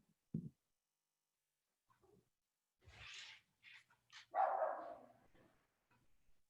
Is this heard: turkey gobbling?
no